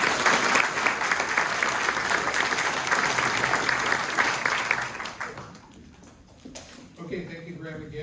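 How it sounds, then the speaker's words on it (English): Applause for Paul Miller rises at a residents' candidates forum, loud steady clapping for about five seconds before fading, followed by a voice starting to speak. "let's give Paul Miller a round"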